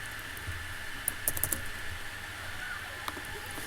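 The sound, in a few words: typing on a computer keyboard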